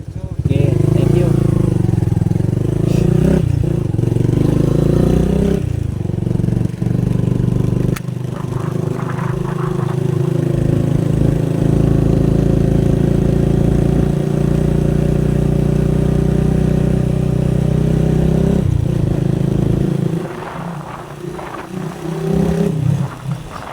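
Motorcycle engine runs steadily with a loud, close mid-pitched drone, rising and falling as the rider moves and slows, with a brief dip and voices near the end.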